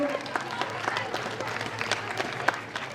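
Students clap at a secondary school's annual celebration and parents' day, a dense patter of many hands with a few sharper claps standing out, steady and moderately loud over a low background hum.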